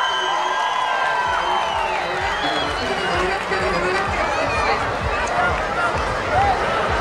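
A town festival crowd in Simitli cheers and applauds the singer, with rhythmic clapping and whoops under a stretch of amplified talk, busy and fairly close.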